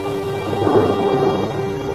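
Deep rumbling thunder from a Kakadu storm rolls steadily beneath a wash of rain noise, a continuous low storm roar with no pauses.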